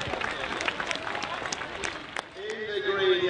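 A crowd at an agricultural county show applauds and cheers as jockeys enter the ring, a scattered patter of clapping that sits somewhat distant under an announcer's voice.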